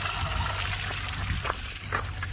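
Water drains from a storage container in a steady low trickle and gurgle, fairly faint and continuous, with a few brief clinks or splashes near the end and no talking.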